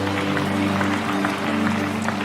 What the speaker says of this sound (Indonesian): beri tepuk tangan untuk Tuhan kita